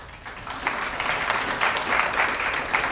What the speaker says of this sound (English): Let's give everybody one big round of applause.